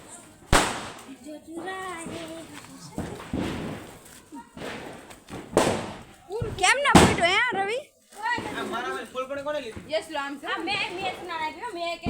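Sharp Diwali firecracker bangs go off several times, loud and close, some as double blasts, with excited voices talking and shouting between and after them.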